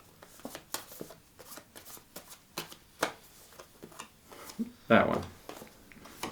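Cards from the Frostpunk board game are shuffled and riffled in quick, crisp bursts at close range, broken up by a person talking between the flurries.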